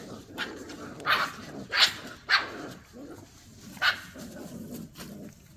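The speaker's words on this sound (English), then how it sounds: "I knew we were gonna hear some growling." Puppies growl and yip in short, scattered bursts, several sharp little cries standing out over a low rumbling background.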